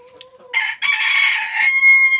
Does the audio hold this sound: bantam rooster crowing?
yes